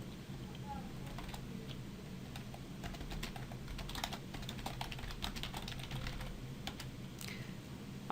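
Fingers type on a computer keyboard, a quick irregular run of light key clicks, fairly close but quiet over a soft room hum.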